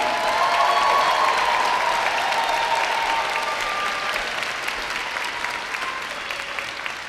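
Graduation commencement audience for a high school class bursts into broad, sustained applause with faint cheering mixed in, loud at first and easing gradually over several seconds.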